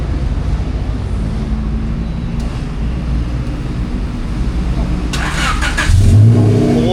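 A car engine in a workshop, checked after a faulty main relay, cranks and catches, then revs up loudly near the end, with a constant low rumble and background noise throughout.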